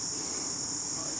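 Crickets chirp steadily in Sowams Woods, Barrington, a dense continuous high trill that holds at even loudness throughout, with faint low background hum beneath and no voices.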